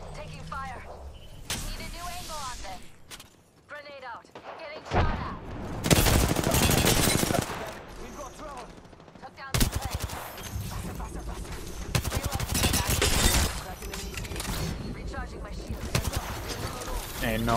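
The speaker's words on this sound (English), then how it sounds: "Taking fire." Video game gunfire in Apex Legends during a ranked match, with bursts of rapid automatic fire and sharp shots mixed with game effects, while players talk over the action.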